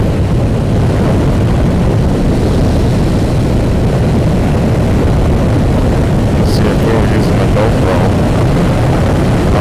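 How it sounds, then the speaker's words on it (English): Loud, steady wind roar and engine drone heard from a motorcycle rider's helmet with the visor open one click while riding, constant and heavy for the whole stretch, with no talking. "So I have the visor open one click. This is how noisy it is."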